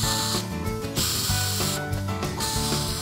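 A power drill drives screws into entry door deadbolt and handle hardware in a continuous loud whirring, ratcheting burst that dips briefly twice, heard close up with no talking.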